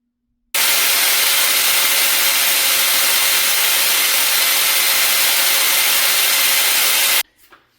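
A 4.5-inch angle grinder cuts through a PTFE fuel line fitting on a hot rod, giving one loud, steady, unbroken high-pitched whine of several seconds that stops abruptly.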